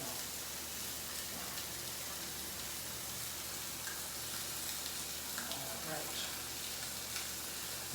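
Sausage meat frying in a pan for a hash brown breakfast casserole, a steady broadband sizzle with occasional crackles and faint scraping as it is broken up, continuous and close.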